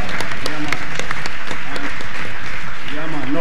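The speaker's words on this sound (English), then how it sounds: "I want to give a round of applause," A reggae festival crowd claps loudly while someone speaks over the applause.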